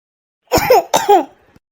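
Two quick, rough coughs close together, loud and near, like someone clearing a congested throat.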